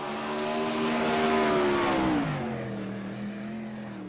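A spike chassis race car at Williams Grove drones through a dirt-track corner, its engine note holding high then dropping as it backs off and fades slightly, loud and alone.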